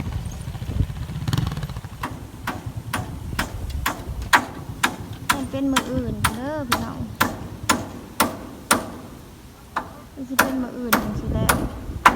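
Nails are hammered into wood while a rural wooden kitchen house is repaired. About twenty sharp, close strikes land at a steady pace roughly every half second, over a low background hum with a brief tonal sound in the middle.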